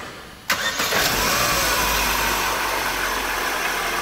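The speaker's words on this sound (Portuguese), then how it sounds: "motor do Onix. Vamos dar partida agora" A Chevrolet Onix engine cranks and starts abruptly after a quiet moment, then settles into a steady close idle with no talking.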